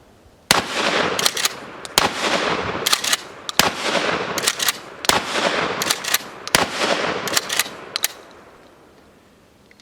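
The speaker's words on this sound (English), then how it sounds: "we're going to go ahead and take a few shots." Remington Model 870 pump shotgun firing field loads outdoors: about seven loud, sharp blasts, each followed by a decaying boom and the clack of the pump action, spaced roughly a second apart.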